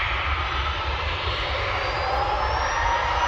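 A Jet2 jet airliner at Manchester Airport roars steadily and loudly nearby, a sustained broad engine rumble with a rising whine as it passes.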